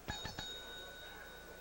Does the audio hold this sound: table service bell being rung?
yes